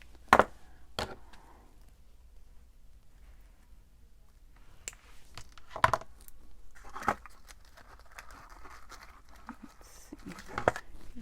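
Cutting a craft piece for an easel pocket card: sharp, close snips and clicks scattered with long quiet gaps, a few louder cuts standing out alongside faint rustling of paper.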